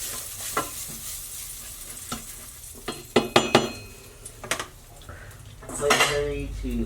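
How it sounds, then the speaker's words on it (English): Butter melts in a pan for crepes with a soft background sizzle, broken by a cluster of sharp metallic clinks and scrapes of a utensil against the pan, then a brief louder surge of sizzling toward the end. "Melt our butter in the bottom of the pan."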